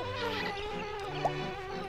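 Bees buzz in the Banjo-Kazooie video game, a short tonal hum near and fairly steady for under two seconds, with no talk over it.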